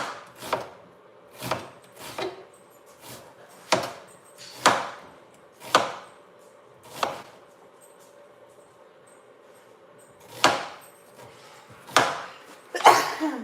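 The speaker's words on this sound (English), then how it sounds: "Today I'm going to be chopping our onion big." Sharp knife chops through an onion on a cutting board, about a dozen crisp strikes at an uneven pace with short pauses, close and clear with no talking.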